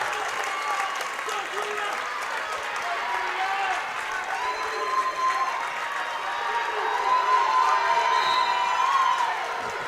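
A volleyball crowd at a girls' state semifinal applauds and cheers steadily throughout, swelling louder toward the end, with scattered shouts and an announcer talking over it.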